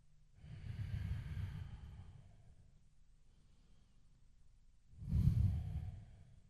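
Slow, deep breaths taken while holding a seated yoga stretch for shoulder and neck tension, two soft exhalations separated by a quiet pause, close and gentle with no talking.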